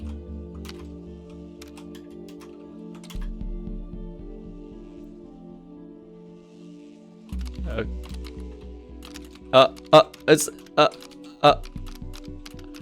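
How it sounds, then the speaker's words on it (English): Keyboard keys clicking on their own in The Turing Test game, a few sparse taps early, then a quick run of sharp distinct keystrokes near the end, with a voice speaking briefly and a low hum underneath. "no, it's typing itself. I'm not typing any of this."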